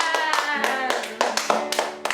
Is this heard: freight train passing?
no